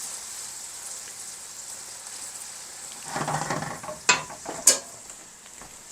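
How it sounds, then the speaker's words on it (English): Grits are stirred in a pot beneath a steady background hiss. Scraping spoon strokes come in partway through, followed by two sharp clinks against the pot. "Stir the grits."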